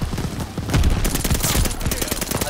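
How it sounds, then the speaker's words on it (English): Automatic weapon fire in the video game Call of Duty Vanguard, a rapid continuous burst of close shots that nearly empties a magazine, loud and dense with little pause. "I missed a half mag on the guys on top."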